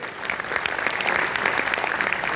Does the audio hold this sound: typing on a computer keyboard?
no